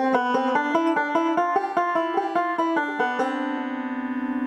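A banjo plays a bright, quick melodic run of plucked notes in a major key, ending on a sustained rolled chord that rings out.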